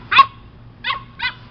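An American Bulldog and Rottweiler mix puppy gives three sharp, close, high-pitched barks: one yip, then two more in quick succession.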